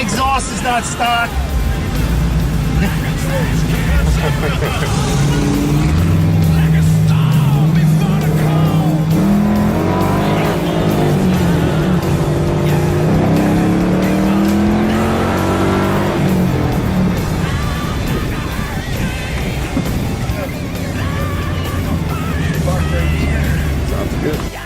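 A Mustang with an aftermarket exhaust races, its engine revving loud and rising and falling in pitch over a rough rumble, with voices talking through the noise.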